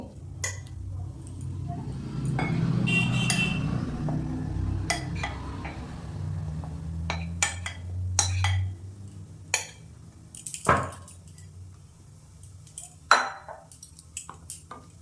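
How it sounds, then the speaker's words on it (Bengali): Rice flour and maida are mixed together in a bowl for rose pithe dough. Soft scraping and stirring build up, then sharp scattered clinks of a utensil against the bowl follow, close and alone, without speech. "চালের গুঁড়ো আর ময়দা একসাথে মিশিয়ে নেব"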